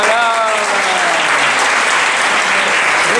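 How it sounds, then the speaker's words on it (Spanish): A crowd bursts into loud, dense applause that fills the whole stretch, with a voice briefly audible at the start over the clapping. "Un aplauso, por favor."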